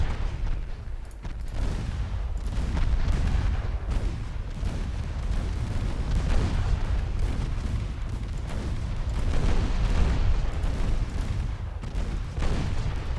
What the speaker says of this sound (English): We do score torpedo hits though.